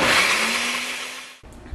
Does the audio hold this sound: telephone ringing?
no